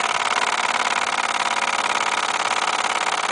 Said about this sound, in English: And there you have the James Watt beam engine, made by Mamod.